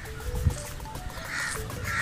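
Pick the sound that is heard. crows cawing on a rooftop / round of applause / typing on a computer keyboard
crows cawing on a rooftop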